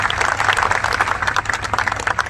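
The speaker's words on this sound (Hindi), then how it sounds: "एक बार जोरदार ताली होनी चाहिए।" Loud, dense applause from an audience at a university talk, steady clapping filling the whole stretch without a pause.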